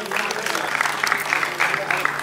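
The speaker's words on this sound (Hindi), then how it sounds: "तालियां नवीन जी के लिए।" A crowd claps steadily at an Amarnath Seva Mandal blood donation camp and event, a dense continuous applause at moderate loudness with a faint low hum beneath.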